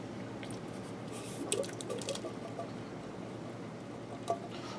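A 15.5 ounce can of chili beans slides out undrained into a pressure cooker pot, making soft wet plops, drips and squishy liquid sounds, fairly quiet with a couple of sharper splashes.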